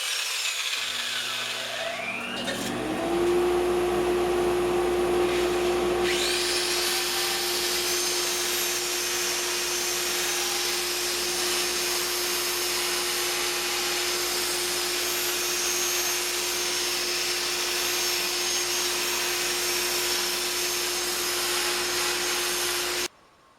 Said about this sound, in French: On se lance sur le sablage, ponçage à l'intérieur.